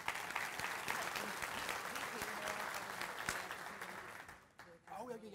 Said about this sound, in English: So a big round of applause for Chris